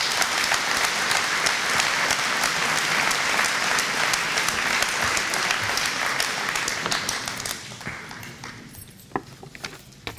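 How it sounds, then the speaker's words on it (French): A crowd at a town hall medal ceremony applauds steadily with dense clapping that gradually thins out and fades toward the end, leaving a few scattered claps. "vous pouvez l'applaudir"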